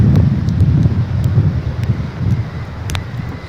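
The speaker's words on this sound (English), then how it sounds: "It's quite a gale coming in on the beach here." Strong gale wind buffeting the microphone on a beach during a storm, a loud continuous low roar with gusty surges and no talking.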